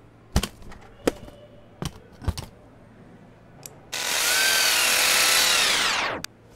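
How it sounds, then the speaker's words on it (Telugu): Power drill driving screws during a comedic film scene, first a few short sharp knocks and taps, then one loud sustained whine of the drill for about two seconds that cuts off abruptly, with no talking. "మార్చేసిన చోట స్క్రూలు డ్రిల్ చేశారనా"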